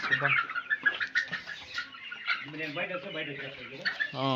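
Sonali chickens cluck close by, their calls overlapping with a person talking through most of the moment.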